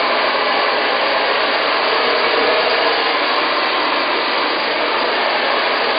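A hair dryer blows steadily at close range while a man's hair is dried and shaped with fingers at a spa salon, a loud continuous whoosh with no talk over it.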